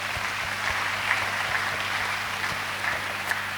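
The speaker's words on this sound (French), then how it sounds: "Applaudissez d'abord pour elle." Steady applause from a church audience for an elderly mother standing at the door, a continuous wash of many hands clapping at an even level throughout.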